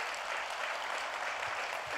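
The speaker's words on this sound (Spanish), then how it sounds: "¿Puede darle un aplauso al Señor?" A church congregation applauding during a Spanish-language service, a dense, steady wash of clapping that fills the whole moment.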